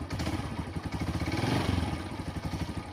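A Honda TMX 125 Alpha motorcycle engine, freshly tuned up after an oil change, revved with the throttle, a close low rumbling idle that swells briefly and settles back, with no talk.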